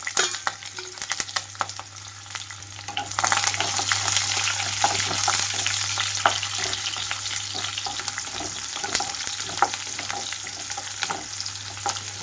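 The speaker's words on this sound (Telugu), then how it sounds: "వీటితో పాటుగా కొన్ని కరివేపాకులు ఇవన్నీ వేగాక కొన్ని ఉల్లిపాయ ముక్కలు కూడా" Curry leaves and onion pieces frying in hot oil with mustard seeds for a Kerala-style brinjal roast, a loud continuous sizzle that swells after a few seconds, with scattered pops and stirring.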